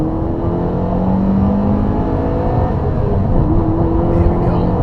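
A Honda Civic Si engine revs high with a continuous loud drone and rising, sliding pitch, heard from inside the car with talk over it.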